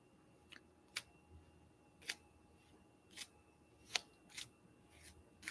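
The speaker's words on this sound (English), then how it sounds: "Then I do this to shuffle them up even more." A deck of tarot cards is shuffled by hand, producing short crisp riffling snaps at irregular intervals, close and fairly quiet.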